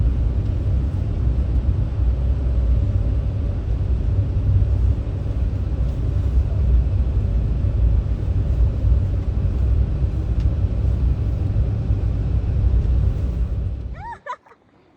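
Steady low interior rumble of a car driving through cold, snowy Norway at night on an aurora-hunting tour, continuous and even for most of the stretch before dropping off abruptly near the end.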